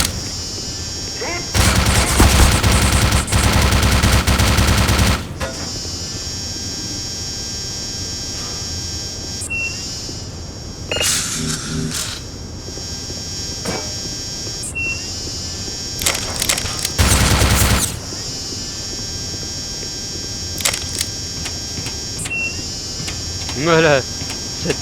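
Gunfire in the video game Half-Life Black Mesa: a loud sustained burst of automatic fire, then scattered shorter bursts and single shots over a steady electronic hum.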